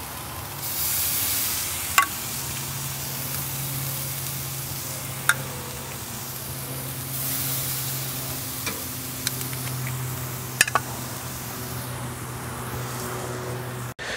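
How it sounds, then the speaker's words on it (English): Steady broadband sizzling hiss of pork chops on a hot charcoal grill, continuous throughout with a few sharp pops and crackles, no talking. "Good sizzle to them."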